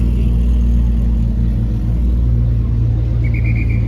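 A supercar engine rumbles loudly and steadily up close in a street convoy during Montreal's F1 weekend, with a deep, continuous low growl and a faint higher whir near the end.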